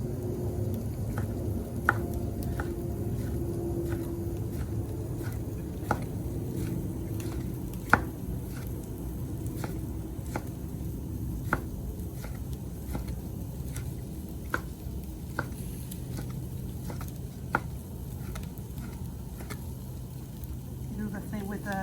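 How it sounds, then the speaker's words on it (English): A knife taps sharply on a cutting board as marinated pork is sliced thin for tacos al pastor, with scattered irregular cuts heard over a low background hum and kitchen noise. "Try to slice it as thin as you can."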